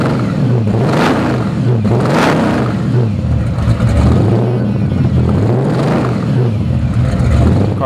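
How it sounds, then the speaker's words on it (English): A 1969 Chevrolet Camaro Z/28 V8 fires up and revs, with deep throaty blips rising and falling in repeated surges over a loud rumbling idle, heard up close and alone. "how about I start it for you, and let's hear what she sounds like"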